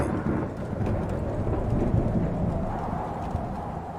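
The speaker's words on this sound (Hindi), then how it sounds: "ऊपर आसमान में लगातार बिजली कड़क रही थी।" Cartoon-style thunder rumbles through a storm, a dense low roar that swells and fades over continuous rain-like hiss, with no voices.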